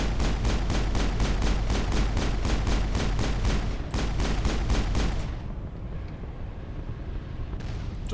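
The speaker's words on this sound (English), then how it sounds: "Sometimes you gotta blow them out of cover with a grenade." Rapid, steady gunfire from Mass Effect combat, loud and continuous for about five seconds before dropping away into a low rumbling aftermath that may hold a grenade blast; no talk.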